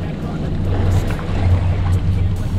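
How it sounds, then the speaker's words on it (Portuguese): A fishing boat's motor idles steadily in reverse during a light jigging trip at sea, a constant low hum with water wash and faint talk in the background. "Ajeita o motor lá atrás, bota ré."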